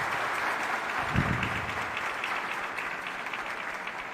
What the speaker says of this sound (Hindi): अपनी तालियां प्रेषित करें मंच को।